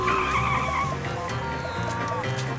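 Car tires skid and squeal in a cartoon scene, a loud sustained screech lasting about a second over an engine rumble, then trailing off into a lower vehicle drone.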